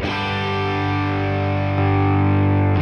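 Heavily clipped, overdriven electric guitar from a pedal, a loud sustained chord buzzing with thick distortion, no voices.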